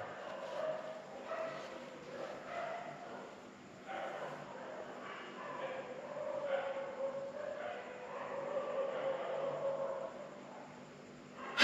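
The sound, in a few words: dogs barking at night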